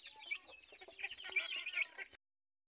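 A hen clucks in a quick, busy series of calls at close range, with some soft scuffling, then the sound cuts off abruptly.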